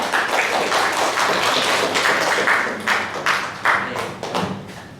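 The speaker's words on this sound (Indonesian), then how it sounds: "Lagi tepuk tangan untuk kelompok 3." A classroom group claps for a student team after a presentation, a loud, close burst of hand clapping with uneven, separate slaps that thins out toward the end.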